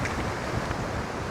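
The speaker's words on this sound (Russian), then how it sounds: "Волны, ну, метр где-то, наверное, может, чуть больше даже." Sea waves about a metre high roll in under gusty headwind of up to 45 km/h on the EuroVelo R10 coast route, a fairly faint, steady rushing wash blended with wind noise, no voices.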